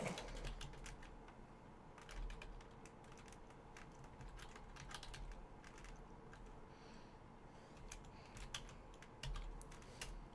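Quiet, steady typing on a computer keyboard, a continuous patter of light key clicks with occasional heavier taps, heard close up over a low background hum.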